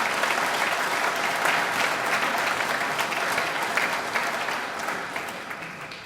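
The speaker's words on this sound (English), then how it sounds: "Let's have an applause for all these guys." A crowd at a solar celebration claps for several moments, a thick, fairly loud wash of applause that gradually thins and fades near the close.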